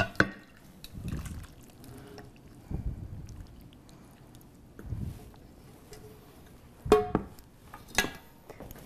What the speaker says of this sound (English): Let's pour this in this beautiful bowl.